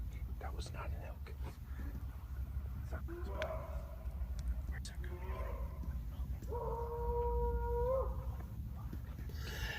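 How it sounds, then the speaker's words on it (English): A long, drawn-out howl from an unknown creature echoes through dark wilderness at night, rising and wavering in tone amid a low background rumble, with faint whispering voices nearby. "the creature responds with a howl"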